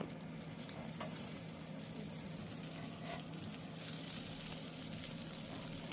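Leftover rice and mixed vegetable cutlet frying in oil in a pan, a steady close sizzle with a soft low hum beneath, continuous and even throughout with no talking.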